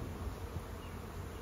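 A swarm of honey bees buzzes at a hive, many insects landing and flying about. The hum is a dense, continuous drone, fairly faint and steady throughout, with no voices.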